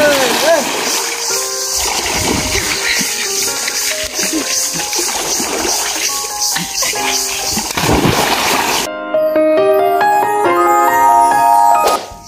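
People swim and bathe in a village pond, splashing and churning the water close by while voices call out, before music takes over near the end.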